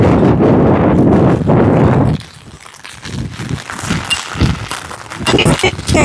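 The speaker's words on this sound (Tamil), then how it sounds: "காற்றுல கொடை வேற பயங்கரமாக பறக்குது" Loud wind buffets the microphone in a roaring rush that drops off partway, then gusts return in bursts while a person talks, during heavy rain and flooding at a house.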